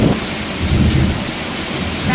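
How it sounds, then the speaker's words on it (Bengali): Thunderstorm with steady, heavy rain hissing on surfaces close by, while deep thunder rumbles swell and fade underneath it. "বিদ্যুৎ চমকাচ্ছে, মেঘ ডাকছে"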